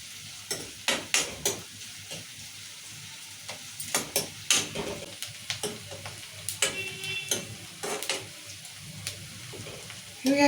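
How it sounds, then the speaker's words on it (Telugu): Onions and green chilies fry in a pan, a steady soft sizzle broken by repeated sharp scrapes and taps of a spoon stirring against the metal, close and moderately loud. "ఇప్పుడు ఉల్లిగడ్డలు మిరపకాయలు మంచిగా వేయినాయి"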